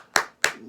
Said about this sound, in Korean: 이 우레와 같은 박수 소리 고맙다 얘들아